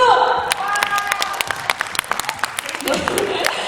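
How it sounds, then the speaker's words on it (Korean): Fans clap at a K-pop fan signing event in Ilsan, a short burst of scattered applause mixed with crowd noise and a few voices, fading into sparser claps. "박수!"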